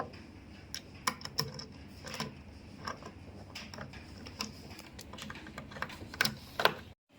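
Screws are tightened with a hand tool during installation of a V682 unit, giving quiet, irregular clicks and ratcheting ticks close by.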